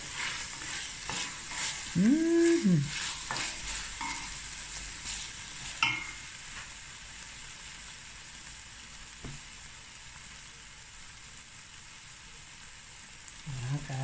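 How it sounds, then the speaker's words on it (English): Meat braising with onions in a pot for a Cape Malay sugar bean bredie, a soft, low sizzle with a short squeaky tone early on and a few scattered clinks. "the more you braise your meat with your onions, the more you develop flavor and color"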